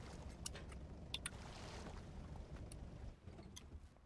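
A boat engine in the Rust video game runs as a steady low rumble, with water wash and a few faint clicks on top, heard at moderate distance.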